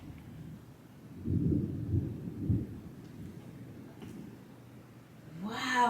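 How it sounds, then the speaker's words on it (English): Low rumbling thunder during a heavy rain downpour, rolling in swells over a couple of seconds and then fading under steady background noise, with a voice starting up at the very end. "it just started pouring like a downpour"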